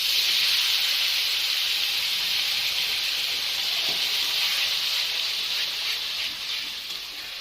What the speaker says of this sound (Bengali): এবার সব মশলাটা আমি এখানটায় করে রেখেছিলাম এটা দিয়ে দেব তেলে।